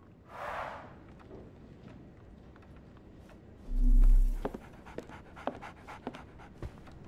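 A dog pants in Sherlock Holmes The Awakened, with soft breathy huffs against quiet ambient game sound, a brief low droning swell midway, and scattered light taps and clicks.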